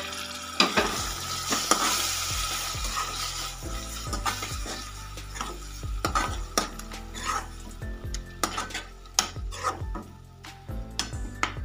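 Tomatoes sizzling steadily in a pan while a utensil scrapes and stirs repeatedly, with regular knocks against the metal.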